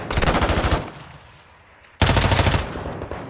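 Two bursts of rapid automatic gunfire from the video game Modern Warfare 2, loud and close, separated by a short lull of quieter ambience.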